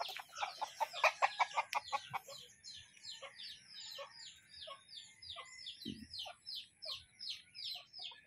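Chickens on a chicken farm cluck and chatter in quick repeated bursts, a dense flurry of calls early on giving way to a steady rhythmic series of clucks, close and clear.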